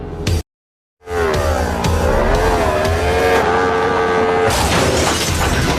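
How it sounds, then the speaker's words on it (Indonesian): A motorcycle ridden through French streets toward a church in the film John Wick: Chapter 4, its engine tone rising and wavering steadily after a brief silent cut, loud and close with tire noise. "Dengan menggunakan motor, John sudah mendekati gereja Sacred Court"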